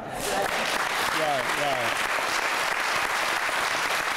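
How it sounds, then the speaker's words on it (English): An audience claps steadily and loudly at a swearing-in ceremony for an EMS chief, and a voice speaks briefly over the applause. "Yeah, get some clapping going on. Come on, clap."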